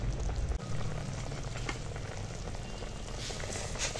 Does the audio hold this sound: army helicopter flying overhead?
no